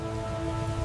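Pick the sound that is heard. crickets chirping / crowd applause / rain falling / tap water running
rain falling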